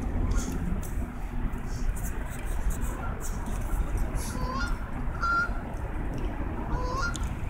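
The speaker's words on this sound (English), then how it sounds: "the geese are gonna attack them." Geese honk repeatedly at a distance, short nasal calls scattered over a steady outdoor rumble, with faint voices in the background.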